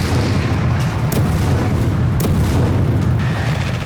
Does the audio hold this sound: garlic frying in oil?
no